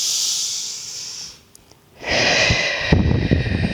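Slow, deep exhale through the mouth during a gentle pilates wave movement, a soft breathy hiss that fades to near silence before another long, airy breath begins, close and unaccompanied by talk.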